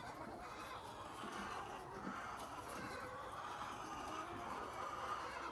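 Chickens cluck softly in a small poultry farm, with faint scattered calls over a low, steady background and no talking.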